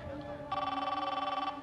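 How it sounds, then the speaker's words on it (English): A telephone rings once in a TV drama scene, a single fairly quiet electronic trill lasting about a second over a low background hum. "Aren't you gonna answer the phone?"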